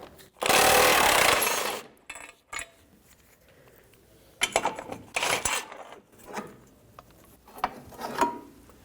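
A 19mm socket on a ratchet loosening the cradle bolt of a 1992-1996 Toyota Camry during rack and pinion replacement: a loud burst of rapid clicking, then scattered ratcheting and metallic clanks in short bursts.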